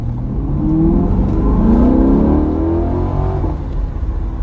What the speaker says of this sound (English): The transmission makes good downshift sounds.